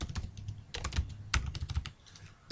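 Fingers type on a computer keyboard, quick close keystrokes arriving in bursts of clicks with brief pauses between them, and no voices over the tapping.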